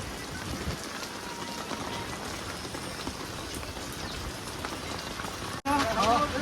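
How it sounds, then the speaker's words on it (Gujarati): Steady rain falling in a village during monsoon flooding near the Venu river, an even close hiss that lasts throughout, then a sudden louder burst of noise at the very end. "કારણ કે વરસાદ હજી ચાલુ જ છે"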